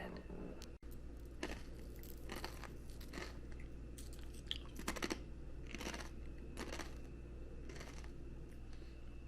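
Someone crunches on a snack late at night with quiet, close, repeated crisp bites spaced a second or so apart over a low, steady background hum.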